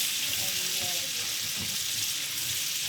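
Pork medallions frying in a pan over medium heat, a steady close sizzle that carries on throughout, with faint stirring noises underneath.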